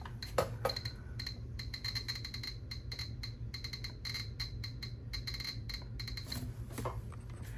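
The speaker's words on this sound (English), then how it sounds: "turn on the Geiger counter and put it up against it and watch it go crazy" Rapid irregular clicking from a Geiger counter held against a radium-painted item, dense bursts of sharp ticks that speed up and pause, close and fairly quiet over a low hum.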